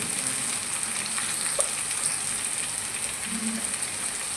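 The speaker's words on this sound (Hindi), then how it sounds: "और अब चिकन को हम इसमें भूनेंगे।" Chicken sizzles steadily in a pan for a dum bhindi chicken masala, a continuous close crackling hiss with no voices.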